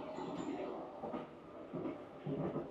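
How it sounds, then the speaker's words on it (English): Rumbling train sounds with rhythmic clickety-clack play in an underground air raid shelter cafe, a steady low mechanical roar with periodic swells, fairly close and without talk. "Got the trains going."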